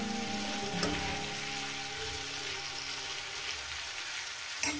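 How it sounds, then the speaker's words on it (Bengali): Food frying in a pan, a steady even sizzle close by that fades slightly, with a light clink near the end and a soft musical bed behind it and no talk. "ভালো করে সুন্দর করে এটাকে আমি ভেজে নেব।"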